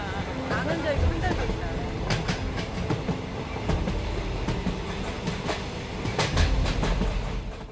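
The Pilatus Railway cog train climbing a near-vertical mountainside gives a steady, close rumble of rolling rail cars with rhythmic clicks and metallic knocks throughout.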